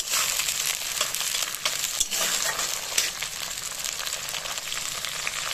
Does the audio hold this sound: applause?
no